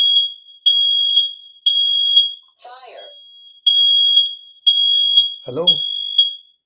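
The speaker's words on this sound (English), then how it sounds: "There is a fire alarm, please." A fire alarm sounds loudly in a room with a steady pattern of long, shrill electronic beeps and short gaps between them. A voice briefly speaks during one of the gaps.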